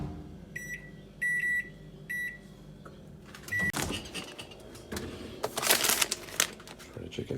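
A microwave oven heating rice for breakfast gives several short bursts of electronic beeps. Then comes the door clunking and the clatter and crinkle of handling the dish, with a low background hum throughout.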